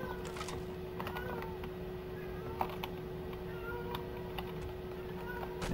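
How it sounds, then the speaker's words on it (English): Cat meowing indoors while a survival video game plays, several short soft meows scattered over a steady low background hum, fairly faint and close. "now I've got a cat telling me that she has her favorite toy and has to tell me all about it"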